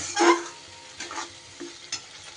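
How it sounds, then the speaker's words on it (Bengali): Spices with salt and a pinch of sugar being stir-fried in a pan for a navratan korma, a few close scraping strokes over a soft sizzle. "সব মশলা এবার খুব সুন্দর করে আবারও কষিয়ে নেব।"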